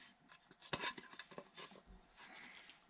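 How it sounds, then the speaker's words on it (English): A chisel pares and cleans up wood on a homemade medieval crossbow, giving faint scraping and shaving strokes with a few sharper knocks, quiet and close. "I'm going to clean that up with a chisel."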